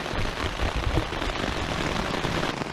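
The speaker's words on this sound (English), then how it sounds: "just enjoy listening to the rain." Rain pours down steadily in Florida, a dense, close, broadband hiss of drops drumming on a surface with no pauses and no voices.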